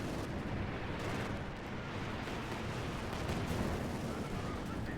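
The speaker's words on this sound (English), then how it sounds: "We got P-47 rocket strafe called in here." A P-47 rocket strafe in the World War II strategy game Company of Heroes 2 produces a continuous, loud, rumbling barrage of explosions and blasts that fills the whole stretch without letup.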